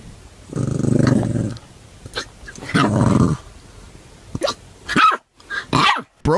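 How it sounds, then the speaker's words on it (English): A small puppy growls in a low rasp, then lets out a run of short, sharp barks and yaps, close and loud, with brief pauses between bursts. "Just a puppy barking at his own hiccups."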